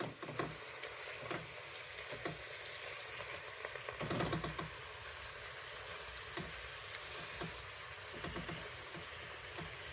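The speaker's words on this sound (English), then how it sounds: "I'm just gonna deglaze this, try and get all that fond off the bottom of the pan." A hot pan sizzles steadily as it is deglazed to lift the fond from the bottom, a close, even frying hiss with small crackles throughout and no talking.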